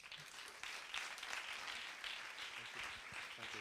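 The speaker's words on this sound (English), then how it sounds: "please welcome Andrew Patterson and make an applause for him" An audience applauds to welcome a speaker at a festival talk, a dense, steady wash of clapping from a crowd at moderate distance, heard alone without speech.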